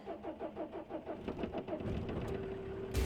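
A small micro camper car's engine is cranked with a key turn, the starter chugging rhythmically for about two seconds before the engine catches and settles into a steady idle, with a sharp click at the end.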